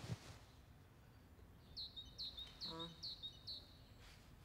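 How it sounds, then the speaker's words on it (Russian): Tits sing a series of short, high chirping phrases repeated about five times at moderate distance, with a brief voice and faint background noise underneath. "Синички."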